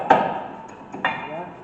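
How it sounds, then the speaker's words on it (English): Hammer taps on brake parts of a 2003 Dodge Ram 1500 during a brake replacement: two sharp metallic strikes about a second apart, close and moderately loud, with a faint ringing after each. "You may need a hammer to tap them into place."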